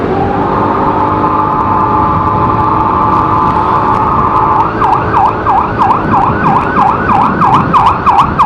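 Loud ambulance siren close by on a Bandung street, a steady wail that shifts into a rapid rising-and-falling yelp, with traffic rumble underneath.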